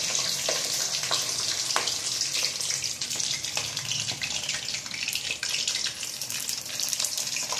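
Long strips of sliced eggplant fry with onion in hot oil, giving off a steady, bright sizzle with a hissing, watery texture. It stays continuous and fairly loud at close range, with no talk over it.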